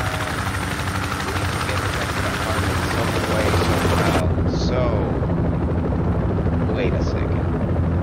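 Military helicopter in the video game Project Reality, its rotor and engine roaring loud and constant throughout, with players talking over it.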